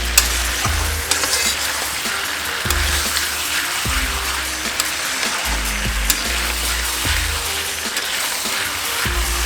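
Local chicken meat frying in a pan gives a steady, loud sizzle with stirring clatter throughout, no voices.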